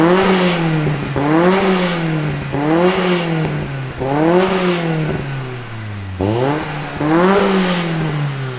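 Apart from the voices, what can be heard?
Nissan Silvia S14 SR20 engine revving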